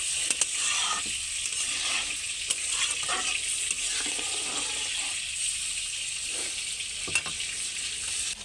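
A tilapia fish curry gravy bubbles at a rolling boil in a pan, producing a dense, steady hiss and bubbling close up, with a few soft knocks and scrapes scattered through.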